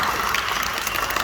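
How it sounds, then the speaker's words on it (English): Dense, steady applause from an audience clapping their hands at a sea lion show at the Singapore Zoo, a continuous close wash of claps with no pauses. "you guys can try distracting him right now by clapping your hands and getting the fish"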